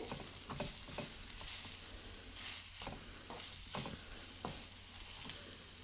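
Spices roast in a pan with a soft, continuous sizzle while a spoon stirs and scrapes in irregular taps, quiet and close.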